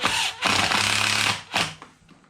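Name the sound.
hole saw cutting scrap steel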